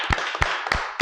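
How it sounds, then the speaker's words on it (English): A small audience claps for a guest on a podcast, giving four sharp, evenly spaced claps that sound close and distinct. "Clap it up for Brother Sanchez."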